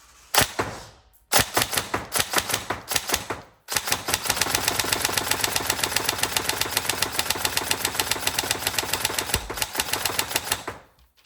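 A TM M4 Socom Next Gen electric airsoft gun fires rapid single shots, sharp mechanical clacks in quick bursts with a short pause between, then a longer steady run of snapping shots.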